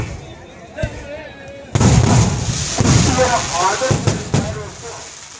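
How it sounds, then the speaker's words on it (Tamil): Loud fireworks bursting at a Madurai Kaliamman temple chariot festival in Thottiyam, Trichy, with a single crack followed by a dense run of booms and crackles, crowd voices and shouts mixed underneath. "பிரம்மாண்டமான வான வேடிக்கைக்கு"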